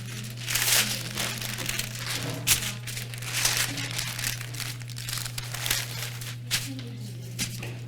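Close crinkling and rustling of parchment paper as it is laid and handled over food, irregular crisp crackles with a steady low hum beneath.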